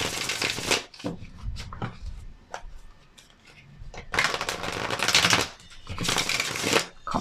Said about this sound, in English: I'll pull some more cards for this particular set anyway.